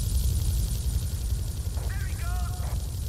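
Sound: helicopter in Grand Theft Auto 3 video game

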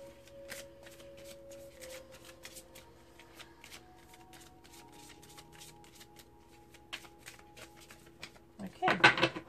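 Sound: shuffling oracle cards

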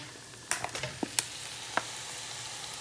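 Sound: diced meat sizzling in hot pan for Bombay curry

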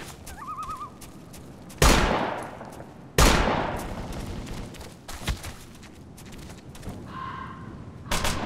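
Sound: gunfire from the video game Operation Flashpoint: Dragon Rising

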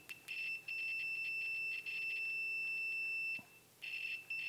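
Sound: multimeter continuity test beep

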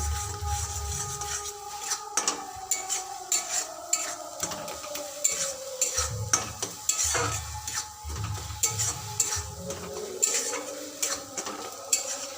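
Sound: stirring pointed gourd with poppy seed paste in pan

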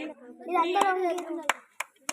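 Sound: clapping

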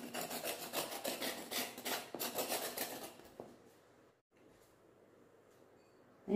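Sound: scraping the skin off a snake gourd

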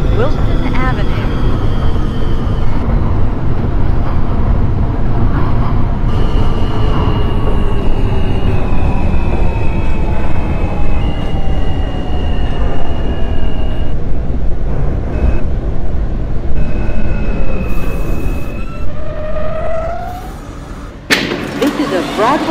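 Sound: R160A/C L subway train in OpenBVE simulator game

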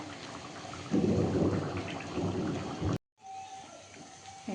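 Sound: thunderstorm with rain

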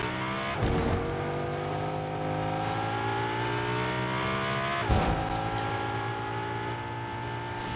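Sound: car driving in Fortnite video game

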